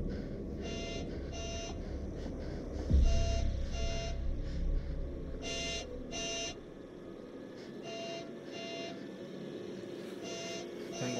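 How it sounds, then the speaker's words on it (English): A video game alarm repeats as short, evenly spaced electronic beeps over a steady low hum, with a brief thud partway through. "What's the alarm?"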